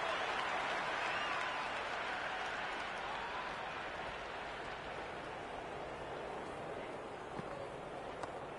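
A crowd at a cricket match keeps up a steady wash of applause and cheering, dense and continuous throughout, with some voices mixed in.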